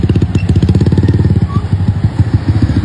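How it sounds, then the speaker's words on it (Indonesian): Motorcycle engines idling and puttering at a crowded parking area in Kemang, Jakarta, a close, steady pulsing chug with no talk. "di dalam masih banyak lagi motor"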